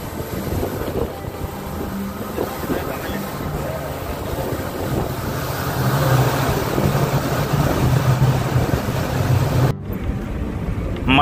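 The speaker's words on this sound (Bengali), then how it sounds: "টানেলের ভেতর দিয়ে ছুটে চলেছে ট্রেন।" A passenger train bound for Margao in Goa runs through a tunnel, producing a loud, continuous roaring rumble with wind rush that swells in the middle and briefly drops out near the end.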